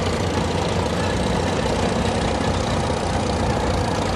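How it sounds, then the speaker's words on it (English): An antique Caterpillar 2-ton track type tractor of Holt design runs at a machine parade, its engine a loud, steady, close rumble with a rough knocking texture and no talk over it. "Next is a Caterpillar 2-ton track type tractor, originally designed by the Holt company and went onto the Caterpillar line."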